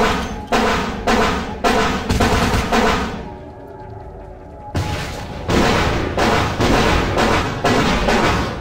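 Gunfire in the vampire video game Vampire The Masquerade Bloodlines, loud repeated booming shots in rapid bursts with a brief pause midway before the heavy firing resumes.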